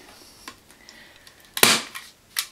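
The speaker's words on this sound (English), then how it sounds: "The staple gun is killing me." A staple gun drives staples into a seat cushion being re-covered: several sharp, close snapping clicks, one much louder than the others, over a quiet background.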